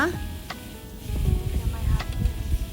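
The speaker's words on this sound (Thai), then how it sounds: "พอน้ำมันเริ่มร้อนแล้วเราก็ใส่ น้ำพริกที่เราตำลงไปเนี่ย ใส่ลงไปผัดเลยจ้า ผัดให้หอม" Pounded Thai chili paste stir-frying in hot oil in a pan, giving soft sizzling with scraping stirs and bursts of spatter, under a voice talking.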